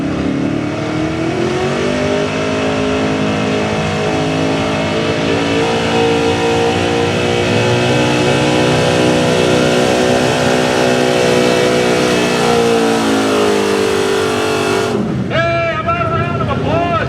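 A gas LS-powered 4x4 street pulling truck revs loud and sustained at a truck pull, its engine note rising and holding high for about fifteen seconds before dropping off, with wind buffeting the mic.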